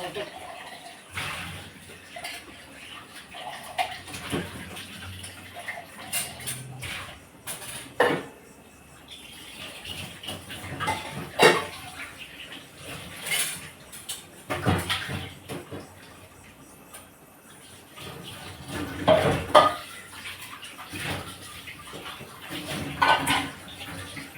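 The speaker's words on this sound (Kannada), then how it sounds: "ಇದೊಂದು ಸ್ವಲ್ಪ ಪಾತ್ರೆ ಉಂಟು ಪಾತ್ರೆ ತೊಳ್ಕೊಂಡ್ಬಿಡ್ತೇನೆ ಮೊದ್ಲಿಗೆ" Dishes and pots being washed at a kitchen sink, with running water splashing and intermittent clatters and clinks of utensils spread through, fairly close and moderately loud, with occasional background voices.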